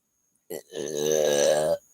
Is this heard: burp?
yes